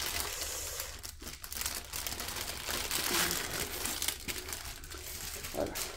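Plastic packaging crinkles and crackles loudly up close for several seconds as it is removed from a cross stitch kit, with a few brief pauses between handling.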